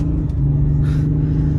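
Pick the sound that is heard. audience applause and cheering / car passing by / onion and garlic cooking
car passing by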